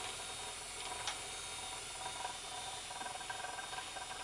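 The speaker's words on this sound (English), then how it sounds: "I've got my mini spinner going at close to top speed here." A HansenCrafts miniSpinner electric spinning wheel running close to top speed gives off a quiet, steady mechanical whir with faint ticking and hiss, continuous and unbroken, with no voices.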